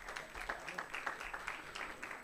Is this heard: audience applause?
yes